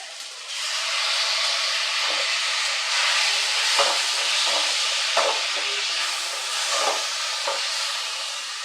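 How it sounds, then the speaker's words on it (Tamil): Chopped tomatoes sauté in a hot pan for a village-style fish curry, giving a steady, close hiss with a few soft stirring scrapes and no voices. "நல்லா வதங்கட்டும். கட் பண்ணி வச்சுருக்கிற தக்காளியை சேர்த்துக்கலாம்."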